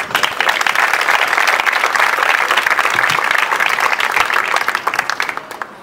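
A library audience at a poetry reading protesting reduced hours at the Biblioteca Regional gives poet Antonio Sánchez a round of applause. The clapping is brisk, dense and close, keeps steady, then tapers off in the final second.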